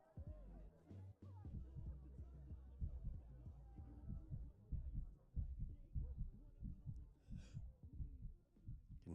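Heartbeat in a short film, a faint, steady series of low, soft thumps that pulse in a regular rhythm, heard alone with no talk.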